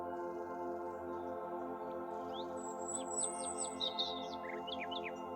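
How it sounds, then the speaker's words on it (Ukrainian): Birds chirp and trill in short bright phrases over a steady, layered ambient music bed, the calls clustering near the middle and end, soft and somewhat distant with no talking. "Спів пташок."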